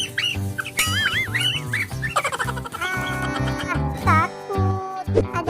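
A cartoon chicken clucks and squawks in rapid bursts, chasing a frightened ondel-ondel Betawi puppet, set against busy children's music with a character voice calling out.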